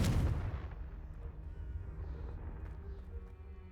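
A Confringo blasting spell goes off in Hogwarts Legacy with a sudden loud explosive burst at the start, then a low rumbling tail that fades over a few seconds. No one speaks.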